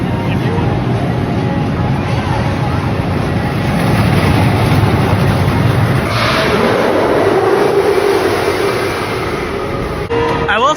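Roller coaster train sent around on an empty test cycle at the American Dream park, a loud rolling rumble and clatter that swells and then fades, with voices in the background.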